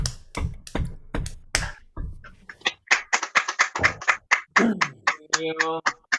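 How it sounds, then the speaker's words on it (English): A single listener claps at a livestreamed performance: sharp, close hand claps, spaced at first and then quicker, followed by brief voiced sounds. "Thank you, person applauding."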